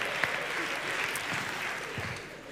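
An audience applauds during an educational talk with continuous, fairly soft clapping spread evenly through the room, with a few sharper individual claps standing out.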